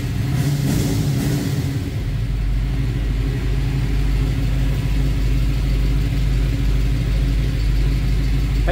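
A 1967 Chevrolet Nova with a 327 V8 runs close by, a deep, steady rumble with a brief rev at the start before settling into a loud, even idle.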